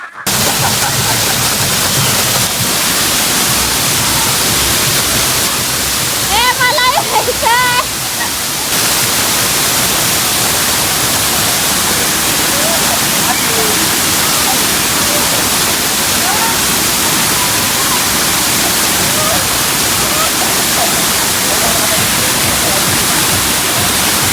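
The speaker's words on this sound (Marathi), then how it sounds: "धबधबा चालू झालाय" A roaring waterfall pours with a dense, loud, unbroken rush close by, and a voice briefly calls out over it partway through.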